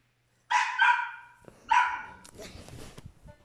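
Two clear barks from a pet dog in a Polish gaming session, each a doubled yelp up close, followed by softer shuffling and a faint voice.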